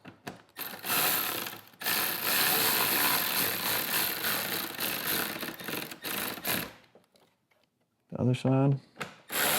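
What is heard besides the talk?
tightening Street Glide handlebar bolts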